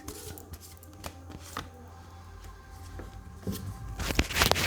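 Tarot cards being shuffled by hand in a quiet room, giving soft papery riffles and brushing flutters that grow busier and louder toward the end.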